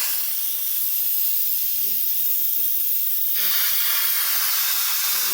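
Steam blasts from the open release vent of an Instant Pot during pot roast cooking, a loud, steady hiss that swells stronger partway through, with a faint voice beneath it.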